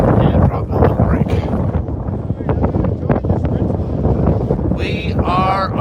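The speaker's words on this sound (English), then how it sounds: "We are on another ridge walk with huge wind." Strong wind roars across the microphone on a mountain ridge along the Pacific Crest Trail in the Sierra near Tinker Knob, a loud, steady buffeting rumble throughout, with a brief fluttering whistle near the end.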